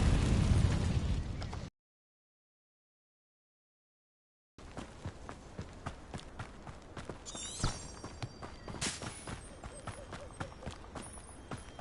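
An Incendio fire spell in the Hogwarts Legacy video game erupts as a loud, roaring fiery burst, cut off by a sudden silent gap, then followed by busy combat clatter, thuds and a spoken voice.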